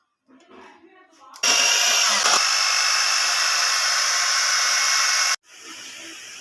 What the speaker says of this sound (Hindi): यहाँ पर हम इलेक्ट्रिक बीटर से इसे अच्छी तरह से बीट कर लेंगे।